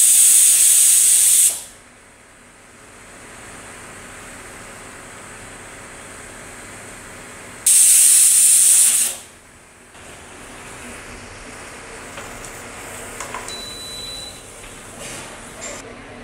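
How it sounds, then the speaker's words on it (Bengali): Moong dal cooking in a pressure cooker, with two loud bursts of hissing steam about six seconds apart, each lasting over a second. A quiet, low background hum sits between them. "ডালকে বসিয়ে দিয়েছি প্রেসার কুকারে। এবার কুকারটা অন করে দেব।"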